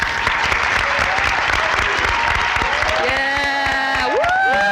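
Loud, steady applause from a large crowd at a high school National Honor Society induction fills the room, with scattered whoops and cheers rising toward the end.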